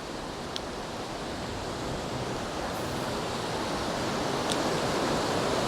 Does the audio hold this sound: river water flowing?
yes